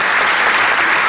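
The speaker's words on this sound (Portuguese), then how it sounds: "Por favor, uma salva de palmas para ele." Steady, dense applause from an audience fills the whole moment, loud and continuous with no pauses, at a live concert or tribute event.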